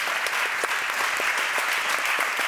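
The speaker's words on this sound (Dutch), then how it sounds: "Ja, dat applaus is helemaal voor jullie allemaal." An audience at a live interview show with comedian Micha Wertheim breaks into warm, steady applause, many hands clapping densely and evenly at close range.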